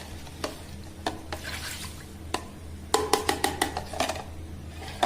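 A spoon stirs milk over ice cubes in a pot while a drink is mixed, giving soft swishing with sharp clinks and a quick burst of rattling ice, close and quiet.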